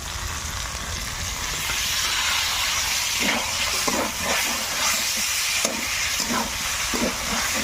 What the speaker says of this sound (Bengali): আলু গাজর দিয়ে ভালো করে মশলা কষিয়ে নিয়েছি, এবার ব্রোকলি ভাজাগুলো দিয়ে দেবো।